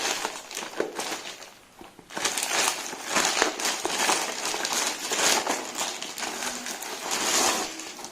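The cover of a tripod box is cut open during an unboxing, producing close crinkling and crackling of packaging with scraping bursts, a brief lull near two seconds, then continuous rustle.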